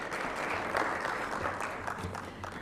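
An audience at a skills competition conference and awards event claps together in a sustained, even burst of applause that stays dense and moderately loud throughout, with no speech over it.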